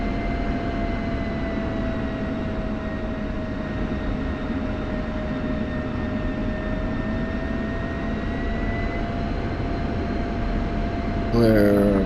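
An aircraft in a flight video game taxis toward the rearm and refuel pads at the start of runway 23. A steady engine drone with a whining tone runs throughout, with a brief burst of another sound at the end.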